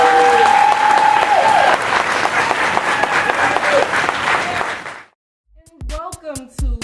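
A live entertainment show audience claps and cheers loudly and steadily for several seconds, then falls quiet before a few sharp bursts of speech-like sound.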